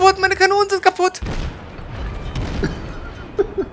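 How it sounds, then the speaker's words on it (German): Naval gunfire from ships in the World of Warships game, with a US cruiser Chester under fire from another ship: a tonal burst opens, then a sustained rumbling barrage of booms and blasts follows, loud and dense throughout. "Jetzt schießt noch ein anderes Schiff auf mich."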